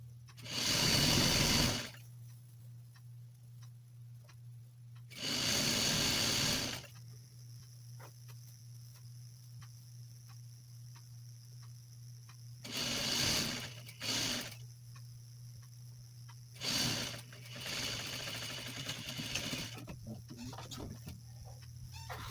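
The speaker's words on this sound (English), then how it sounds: "I'm sewing really close to the edge of the fold line" A sewing machine stitches a fabric seam close to the edge of a fold while making simple boxer shorts, running in four or five short bursts separated by quiet pauses, near and fairly loud.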